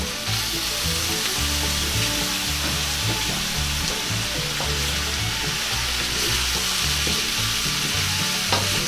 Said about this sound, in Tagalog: Ngayon po ay pwede na po nating ilagay itong ating tahong.